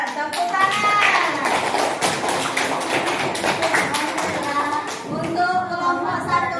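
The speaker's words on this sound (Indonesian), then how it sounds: "Pintar, tepuk tangan." Students in a classroom clapping together in a rhythmic patter of many hands, close and lively, with children's voices talking and calling over the clapping.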